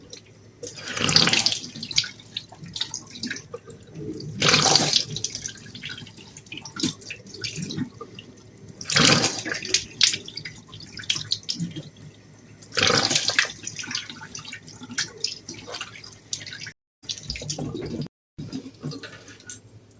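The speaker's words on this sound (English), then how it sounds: "Let's wash my face." Water at a sink while washing a face, several bursts of splashing and running tap water separated by quieter drips and pauses.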